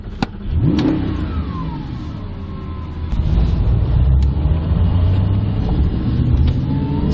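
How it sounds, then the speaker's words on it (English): An Audi R8 supercar with a V8 engine revs and pulls away, a loud steady low engine roar that builds and swells after a few seconds, with a couple of sharp clicks near the start and no talking. "when you start it up you get the big V8 grumble"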